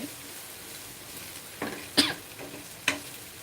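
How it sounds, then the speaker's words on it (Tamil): Small-cut cluster beans fry in plenty of oil, a low continuous sizzle marked by a few sharp stirring scrapes and clatters close by. "நல்லா எண்ணெய் ஊற்றி அப்படியே குட்டி குட்டியாக கட் பண்ணி அப்படியே ஃப்ரை பண்ணிடுவேன்"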